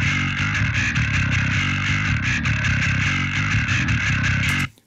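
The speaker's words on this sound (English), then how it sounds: "So the main bass track sounds like this." Processed death metal bass guitar track, a dense, heavily distorted low growl with fast, chugging picked notes, loud and continuous for nearly five seconds before cutting off abruptly.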